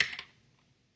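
Quick burst of computer keyboard typing, a few close, crisp key clicks clustered at the start, then fading into near silence.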